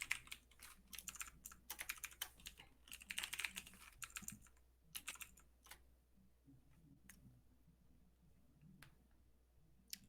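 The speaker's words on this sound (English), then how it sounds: "I heard the typing" Computer keyboard is typed on in quick, uneven bursts of sharp key clicks, denser for the first half, then thinning to sparse individual taps over a low background hum.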